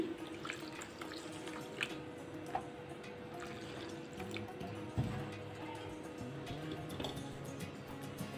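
Milk poured into a glass or bowl in a home kitchen: a faint, quiet trickle with scattered drips and a small clink partway through.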